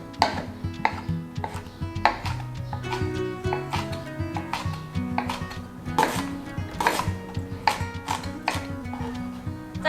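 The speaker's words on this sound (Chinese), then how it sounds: "然后老姜切成细丝状" Knife shredding old ginger into thin strips on a cutting board, with rapid, sharp chopping taps in a steady rhythm and a faint background hum, close and clear with no talk.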